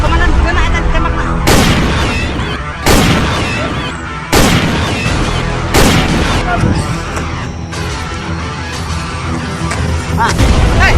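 Loud booming gunshots in a short Sundanese war film, five sharp blasts at irregular intervals over a dense ringing background.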